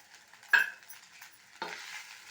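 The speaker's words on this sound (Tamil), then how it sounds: "எல்லாத்தையும் ஒன்றா சேர்த்து நல்லா கிளறி விட்டுடலாம்" A spoon scrapes through a red rice poha mixture in a pan in two short stirring strokes, close and fairly soft, with a faint background hiss between them.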